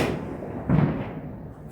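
A single muffled thud of a firework bursting at a distance on New Year's Eve in Bengal, rising briefly over a low, steady background rumble.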